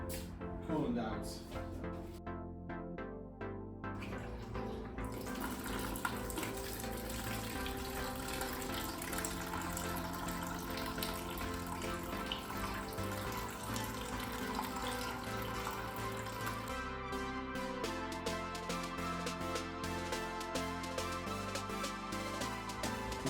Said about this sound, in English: use some distilled water and flush the existing coolant out